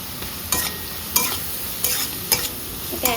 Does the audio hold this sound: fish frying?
yes